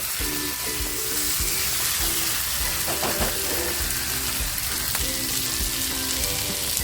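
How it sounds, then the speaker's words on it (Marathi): Aubergine frying in a pan, a steady crackling sizzle with small pops and occasional stirring scrapes, close and continuous, with no talking. "आपली वांगीसुद्धा छान फ्राय झालेली आहे"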